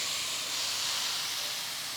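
Chicken fries in a pan of softened onions over medium flame, giving a steady, close, even hiss with no talk.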